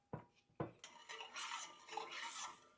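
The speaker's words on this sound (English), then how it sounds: "Continue to stir while the nikawa slowly melts into liquid form." Nikawa animal-hide glue being stirred as it melts in a pot over low heat for paper sizing, a few sharp scraping knocks at first, then a continuous soft rasping and clinking as the utensil moves against the pot.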